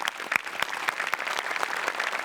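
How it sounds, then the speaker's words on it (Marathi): Loud, dense applause from a studio audience at a Marathi comedy show, steady rapid clapping throughout, close and continuous. "जोरदार टाळ्या."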